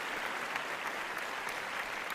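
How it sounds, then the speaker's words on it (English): An audience applauds award winners at the Apprenticeship Awards Cymru 2021, a dense, continuous patter of clapping held at a steady moderate level with no voices on top. "Stop clapping, you've won."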